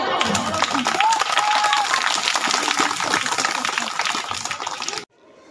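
Applause at a retirement farewell felicitation for a school teacher, dense clapping from a gathered crowd filling most of the stretch with voices mixed in, then cutting off abruptly near the end.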